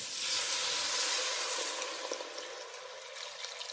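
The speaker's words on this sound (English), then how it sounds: "So I have 4 cups of water, or a quart of water," Four cups of water poured into a hot pan of browned Swiss steak drippings, a loud close hiss and sizzle that slowly fades as the pan cools.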